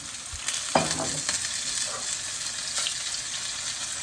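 Oyster mushrooms fry in oil in a pan, with an even, close sizzle throughout, broken by a few stirring scrapes and light knocks from the utensil.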